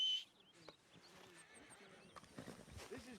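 In the Red Dead Redemption 2 game, a horse whinnies near the start and hooves shuffle and clop softly, with faint voices under the quiet game soundscape.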